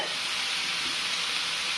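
Chicken curry with curry leaves stirred in a hot pan, a dense, continuous close-up sizzle and hiss that stays steady and loud for the brief moment.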